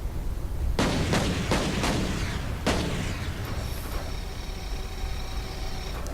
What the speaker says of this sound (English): this is a turret, which is a very powerful gun